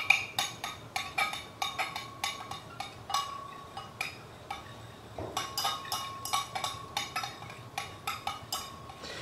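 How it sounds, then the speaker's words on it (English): A face toner solution gets stirred in a container, and a utensil clinks against the sides in a quick, regular rhythm of small close taps, with no speech. "And stir well."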